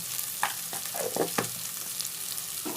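Ginger-garlic paste sizzles in hot oil for a prawn curry, a steady close-up fry with a few brief scraping stirs and small crackles, no voices.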